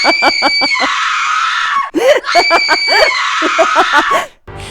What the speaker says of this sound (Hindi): वो लड़की जो है बहुत ही ज़्यादा खौफनाक आवाज़ों में जो है चीखने लग गई और उसी के साथ साथ वो हंस भी रही थी